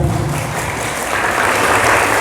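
Applause at a routine Islamic study gathering for parents of santri at Darussalam Waturingkel, a close, continuous patter of hands that holds steady and swells slightly toward the end.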